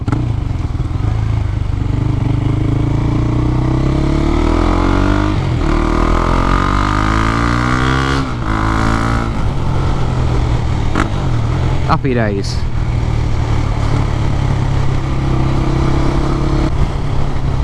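A loud single-cylinder Husqvarna 401 motorcycle engine with the catalytic converter removed thumps and revs repeatedly, pitch rising and falling close by, with a brief spoken remark over it.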